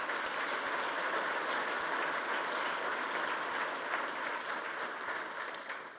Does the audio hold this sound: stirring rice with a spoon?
no